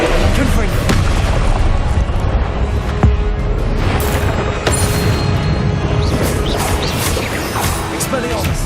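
Confringo blasting spells in Hogwarts Legacy, a dense, loud stream of booms and crashes with sharp impacts and rumbling throughout, alongside other spell effects.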